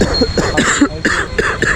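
A person close by coughs several times in quick, harsh bursts.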